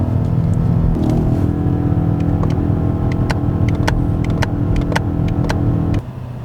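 BMW XM engine held against its rev limiter at about 4,500 rpm during the break-in period, a loud, sustained drone broken by repeated sharp stutters as the limiter cuts in, then dropping off suddenly near the end.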